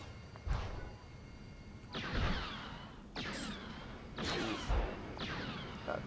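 Cluster bomb explosions in the video game Star Wars Galaxies, a series of four or five separate blasts about a second apart, each a sharp crack that fades into a rumbling tail, fairly quiet overall.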